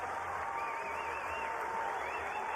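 A college baseball crowd at a Notre Dame vs. Florida State ACC game applauds and cheers on its feet, a steady, dense roar that runs throughout while a commentator's voice rides on top.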